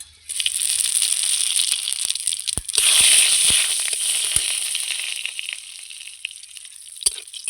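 Radhuni seeds and a dried red chilli crackle and sizzle in hot mustard oil, a steady close, bright frying hiss broken by sharp pops and a brief louder flare near the start.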